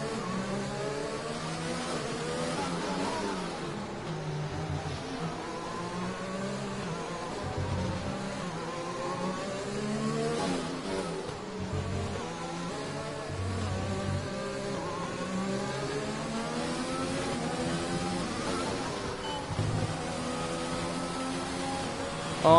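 F1 car engine from F1 2020 racing around the Singapore GP street circuit, a continuous buzzing engine note rising and falling with gear changes through the lap, loud and steady throughout.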